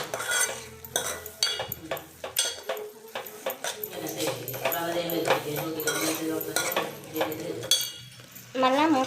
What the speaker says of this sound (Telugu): కలబెట్టుకోవాలి.